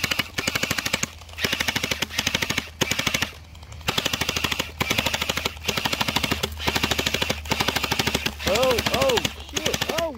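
Rapid bursts of gel blaster fire crackle through a glow-in-the-dark gel blaster war, volleys near and loud with brief pauses, while players shout and talk over the shooting.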